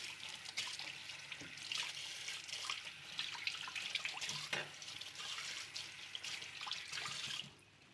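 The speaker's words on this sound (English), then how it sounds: "Just gonna wash my knife." A knife is rinsed under a running kitchen tap, a steady splashing stream of water close by that cuts off near the end.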